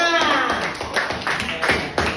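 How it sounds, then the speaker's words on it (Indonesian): Students clapping in a classroom, a short burst of several hands patting with soft taps and thuds, fairly close, with a few voices mixed in. "Tepuk tangannya mana?"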